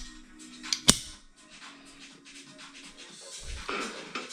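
An airsoft replica's bolt is fitted into place, giving a couple of sharp, close metallic clicks, one loud snap standing out over faint handling rustle in an otherwise quiet room.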